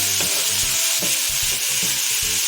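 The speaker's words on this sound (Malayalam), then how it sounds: "ഈ മഷ്റൂം ചേർത്ത് നന്നായിട്ടൊന്ന് ഇളക്കിയിട്ടുണ്ട്" Mushrooms stir-fried in a pan, a steady broadband sizzle with repeated scraping strokes of a spatula across the pan at a regular rhythm, close and fairly loud, no talking.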